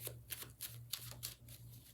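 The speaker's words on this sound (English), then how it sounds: "Okay, while I'm shuffling" Tarot cards are shuffled by hand in repeated soft riffling bursts, close and quiet, over a low steady hum.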